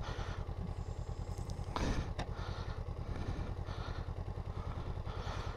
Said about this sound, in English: to kick the side stand down, my foot's getting stuck behind this peg